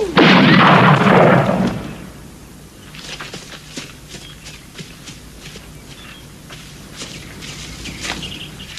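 A single loud rifle shot cracks out during a hunt and decays over a second or two. Quieter scattered rustles and footsteps follow outdoors.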